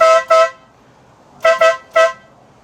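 Loud, close air horn blasts from a Chrysler TC by Maserati: two short honks, a pause, then three more quick honks.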